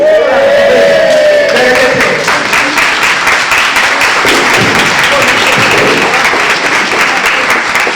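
An audience claps hard and continuously, dense loud applause filling the whole stretch, with a few voices cutting through at the start.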